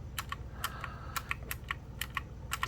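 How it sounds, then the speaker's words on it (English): Keys on a mechanical calculator click sharply and close up in an uneven tapping rhythm, about a dozen presses with no talking. "So look at my fancy calculator. I got one of those mechanical ones."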